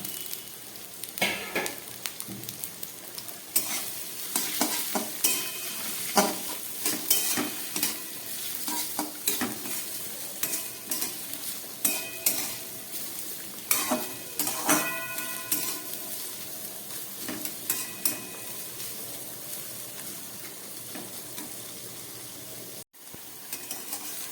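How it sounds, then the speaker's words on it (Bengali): Potato, carrot and capsicum pieces fry together in a pan under a steady sizzle. A spatula stirs and scrapes in frequent rhythmic strokes, close and fairly loud, with a brief drop-out near the end. "আলু গাজর আর ক্যাপসিকামটাকে আমি একবারে ভেজে নেব"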